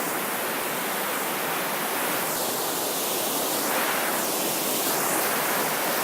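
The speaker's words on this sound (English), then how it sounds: "So the water pours down here, and then it goes through these cracks" Water pouring down through rock cracks in a Paris park, a continuous loud rushing hiss with gentle surges in its tone, no voices.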